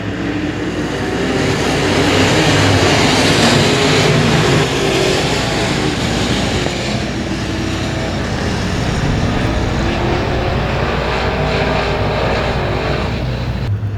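Dirt-track race cars at a speedway as a driver gets back on the throttle, a dense, continuous engine roar that stays loud and steady, with several cars blending into one wash of motor noise and no voices.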